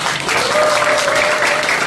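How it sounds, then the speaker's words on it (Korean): An audience at a company promotion event applauds a sales achiever, a brief burst of steady, dense clapping with a faint tonal hum running beneath it. "박수 좀 부탁드립니다."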